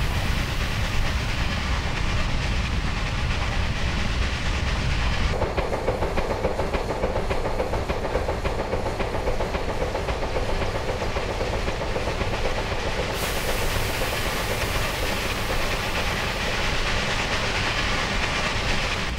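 A New Haven Railroad train runs in a railway simulator, a loud continuous rumble with rhythmic clickety-clack of wheels and a hissing wash; the tone shifts abruptly twice as the sound changes, with no talk throughout.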